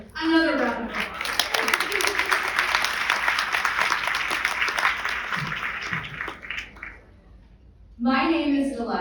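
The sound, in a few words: audience applause at a gala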